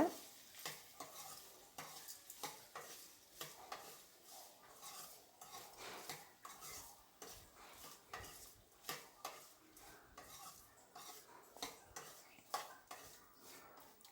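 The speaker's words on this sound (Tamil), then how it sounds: "இப்போ இதை நல்லா மிக்ஸ் பண்ணிக்கோங்க" A spoon stirs bottle gourd kootu with salt in a pan, producing a steady run of soft scraping strokes and light metallic taps against the pan, close up with no talking.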